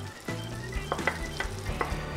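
Butter and prosciutto being stirred into a risotto with peas, a soft steady sizzle under repeated scraping stirs of a spoon through the thick rice, close and moderately loud with no talking.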